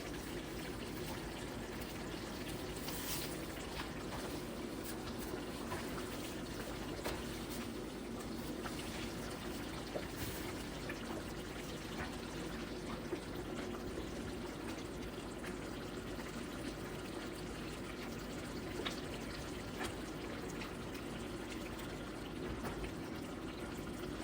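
Spaghetti sauce for an authentic Italian recipe bubbling steadily in a pot, a continuous low simmering wash with soft pops, heard close and alone.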